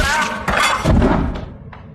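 In a film scene, objects are smashed in quick succession, with heavy thuds and a breaking crash that fade out after a sharp final knock.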